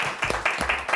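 Applause for the participants of a cooking show, a short burst of several hand claps from a small group, fairly close and moderately loud.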